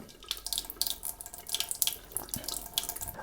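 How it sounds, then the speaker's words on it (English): Water runs from a tap into a sink, a steady splashing stream with irregular spatters and drips, close by, no voices. "And then you pull this lever forward for your cold filtered water."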